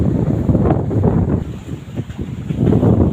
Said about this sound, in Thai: ลมโคตรแรงลมแรงมาก ๆ เลยนะ